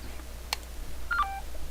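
A mobile phone briefly sounds a couple of short electronic tones, one quick chirp followed by a short cluster of beeps, fairly faint over a quiet background hum.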